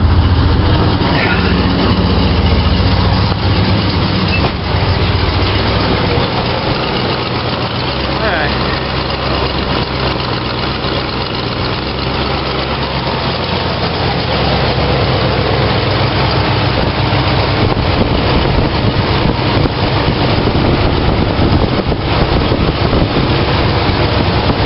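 A 1968 Pontiac GTO engine running at a fast idle after a cold start, a steady loud low rumble that never changes, heard from nearby, with someone talking over it at times.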